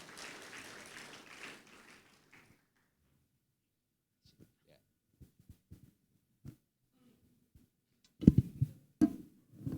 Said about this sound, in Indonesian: Tepuk tangan buat Bapak Yohanes.